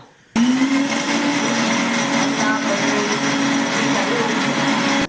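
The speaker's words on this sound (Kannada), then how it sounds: "ಇದು ಸಣ್ಣಗೆ ಮಿಕ್ಸಿ ಮಾಡಿ ಇಟ್ಕೊಂಡ್ಬಿಡೋಣ" A mixer grinder grinds spices at full speed after a sudden start, a loud steady motor drone with a rattling grinding texture throughout.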